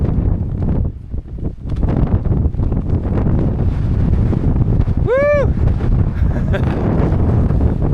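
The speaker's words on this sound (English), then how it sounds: "That is windy!" Strong, steady wind roars and buffets the microphone on a coastal path, a constant blustery rush that continues throughout with no pauses.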